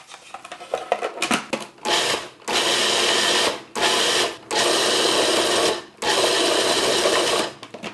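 Food processor whirring in several loud bursts as it mixes homemade almond paste dough with egg, the bursts separated by short pauses after some initial clatter.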